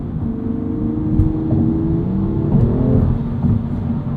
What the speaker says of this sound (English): the dual clutch allows you some pretty aggressive downshifts. It'll let you downshift right up into the red line